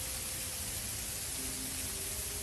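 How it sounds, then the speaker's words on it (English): Sleet or freezing rain pours steadily during a February winter storm at about 20 degrees, a dense, even hiss with no breaks, fairly quiet and constant from start to finish. "It's really coming down. I'm not sure what it is. I don't know if it's sleet or freezing rain or what."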